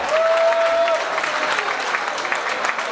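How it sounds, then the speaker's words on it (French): Gala audience at a New Year's Eve event applauds Bobby Lamédine and Suzanne with dense, steady clapping throughout, loud and close, with a brief whistle-like tone near the start. "est-ce que vous pouvez applaudir pour Bobby Lamédine et Suzanne"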